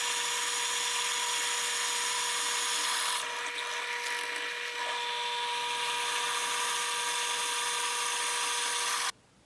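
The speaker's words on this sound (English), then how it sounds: "I just happen to have a drill press." Drill press drilling into a simple bevel jig for knife making, a steady high whine with constant tone that shifts slightly under load, then cuts off abruptly at the end.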